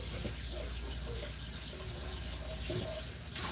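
Tap water runs steadily into a kitchen sink as a container is rinsed out, a continuous close hiss with light splashing and no voices.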